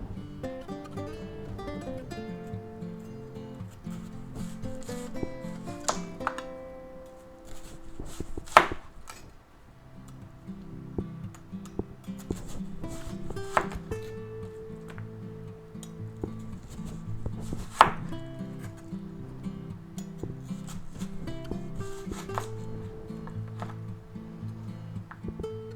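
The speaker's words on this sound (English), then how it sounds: "That's a pretty nice onion, right? Nice. Alright, let's slice it up." A knife slices through an onion on a cutting board in a steady run of close, crisp cuts with a few sharper knocks, and soft music plays underneath.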